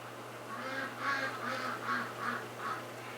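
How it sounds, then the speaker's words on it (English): A duck quacks repeatedly in a garage during winter, a string of about six rhythmic, nasal calls at moderate distance over a steady low hum, with no talking. "the one in the back garage is quacking like crazy because she can hear her friends out front here"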